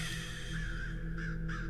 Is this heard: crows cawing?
yes